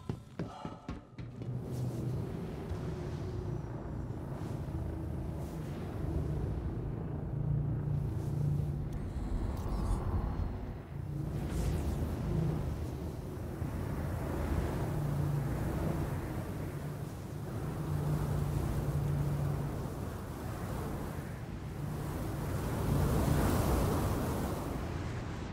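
Ship engines in the Star Citizen video game rumble as a continuous low drone with airy hiss above, swelling and easing over about twenty-five seconds.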